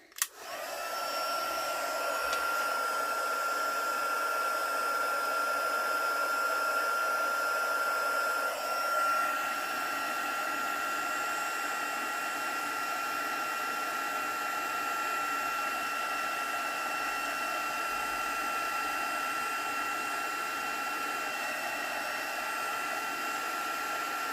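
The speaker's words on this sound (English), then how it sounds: "I'm going to get my heat gun, guys, and I'm going to heat set this" Heat gun blows with a steady whirring roar for the whole stretch, close and loud, used to heat-set embossing powder before working on vellum in a mixed media journal.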